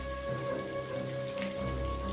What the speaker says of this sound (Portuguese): Embora uma chuva tenha se juntado ao sereno que continuava caindo